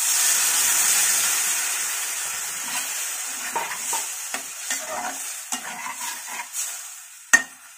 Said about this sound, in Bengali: এবার কিছুটা জল দিয়ে দেবো